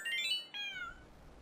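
A cat gives two quick, clear meows close by, the second one longer and falling in pitch.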